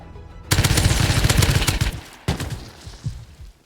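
Loud, close AK rifle fire in Rust: a long rapid automatic burst followed by a shorter second burst that trails off.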